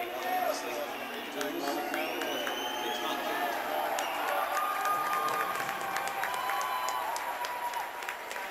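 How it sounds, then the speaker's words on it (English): Home crowd at a McGill Redmen versus Nipissing Lakers university ice hockey game applauds and cheers steadily throughout, a broad, continuous wash of clapping filling the arena with scattered voices mixed in. "And the home crowd gives a nice salute to the McGill Redmen"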